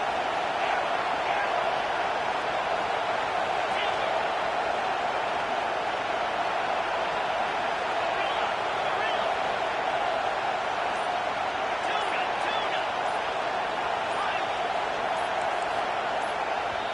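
Stadium crowd roaring on a fourth down in the College Football 25 video game, a continuous, even wall of noise holding steady for the whole stretch.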